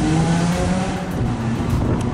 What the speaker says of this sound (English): Whenever cars do that, all that revving, it overwhelms my microphone